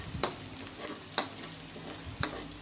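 Vegetables being sautéed in a pan for restaurant-style chili chicken, with a soft steady sizzle and three sharp spatula scrapes or stirs spaced about a second apart.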